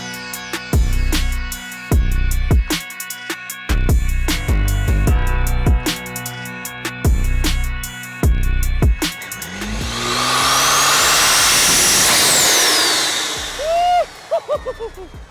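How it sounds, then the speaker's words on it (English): Modified 670 whp Audi engine with loud turbo and rapid repeated revving, whooshes and fluttering bursts up close, followed by a long rising spool and sharp chirps near the end. "Those are insane turbo noises right there."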